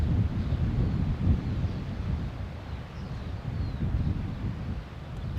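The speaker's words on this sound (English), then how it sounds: "that wind's holding it there" Wind gusts across the open Barnbougle Dunes links golf course, a loud low rumble buffeting the microphone continuously with no talk.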